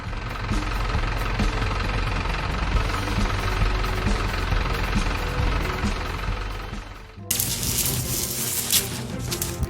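A truck engine runs steadily with a low, knocking idle rumble for about seven seconds, then the sound cuts to a brighter, hissing machine noise near the end.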